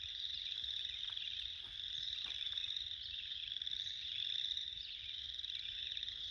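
A dense chorus of frogs croaking at dawn on a farm, a continuous high trilling buzz that stays steady and fairly close with no talking.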